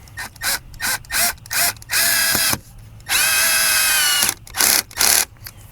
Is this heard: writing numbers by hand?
no